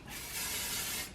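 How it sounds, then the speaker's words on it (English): Hairspray hisses from an aerosol can onto the back and top of a messy bun, one steady continuous spray about a second long, close and fairly quiet with no talk. "I'm also going to be taking my hairspray."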